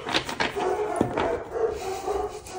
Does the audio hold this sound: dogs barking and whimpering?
yes